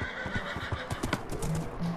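A horse in the Minecraft video game struck by a skeleton's arrow, giving a whinny with clopping hooves over steady game background noise.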